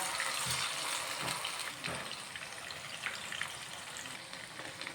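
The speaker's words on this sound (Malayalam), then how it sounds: "ഇനി നമുക്ക് ബാക്കിയുള്ള പീസും കൂടി ഇതുപോലെ ഒന്ന് ഫ്രൈ ചെയ്തെടുക്കാം" Chicken pieces deep-frying in hot oil for chicken kondattam, a steady dense bubbling sizzle, close and moderately quiet, with a few faint clinks.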